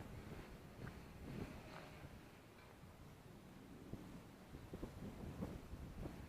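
Steady wind buffets a small drone's microphone during a night flight at a dust bowl, a continuous low rushing roar with gusty swells throughout.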